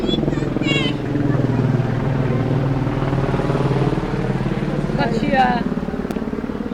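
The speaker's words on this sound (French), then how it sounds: "hélicoptère." A helicopter flying overhead makes a steady low droning throb that lasts throughout, moderately loud, with people talking over it.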